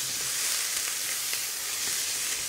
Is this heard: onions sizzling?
yes